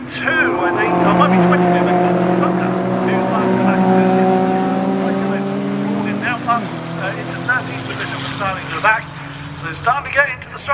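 Race cars, including an MGB GT, run side by side during a CSCC race at Oulton Park, engines droning loudly and rising in pitch before fading, while a commentator talks over them.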